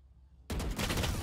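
Rapid machine gun fire in the video game Valorant bursts in suddenly after a quiet moment, a loud, sustained stream of shots continuing to the end.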